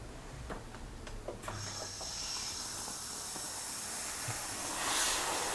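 Steam hisses steadily from a hot kitchen steamer, a broad continuous rush that swells louder near the end, with a few faint clicks early on and no talking.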